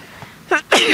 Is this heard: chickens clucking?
no